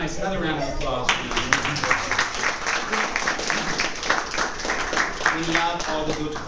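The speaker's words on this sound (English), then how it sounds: "Another round of applause for you." Applause from a convention crowd cheering a cosplayer in a homemade costume, a dense steady patter of many hands clapping for several seconds, with voices mixed in underneath.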